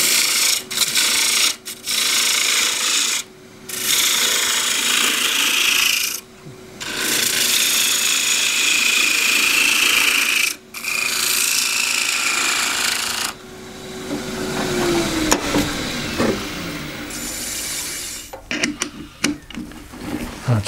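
A gouge cuts wood on a lathe while a box with a suction-fit lid is turned, a steady rasping scrape broken by several short pauses and then a lighter, uneven scraping at the end.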